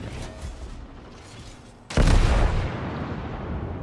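The Tirpitz battleship in World of Warships fires a gun volley, a sudden heavy boom partway through that rolls into a long, rumbling decay over faint background noise.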